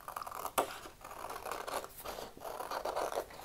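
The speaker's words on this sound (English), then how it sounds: "we're going to cut it out" Scissors snip through tissue paper to cut out a circle for a honeycomb ball, a close run of crisp rasping cuts with one sharper snip early on, quiet and unaccompanied by talk.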